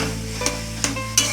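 Chicken masala sautéing in a pan with a steady sizzle, broken by three sharp scrapes of a spoon stirring at roughly even intervals, close and fairly loud.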